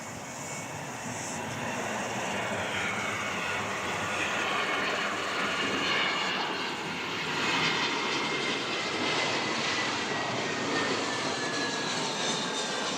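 An airliner arriving at Wellington from the Gold Coast passes at moderate distance, a steady engine roar with a faint whining tone that holds through the whole stretch, alone without voices.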